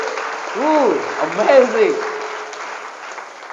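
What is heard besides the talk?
audience applause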